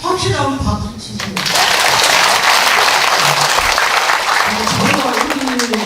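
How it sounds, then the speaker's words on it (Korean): A Buddhist graduate school alumni lecture audience bursts into loud, sustained applause after a spoken line, with dense clapping that fills the room for several seconds before a voice returns at the end. "확실하면 박수 치세요."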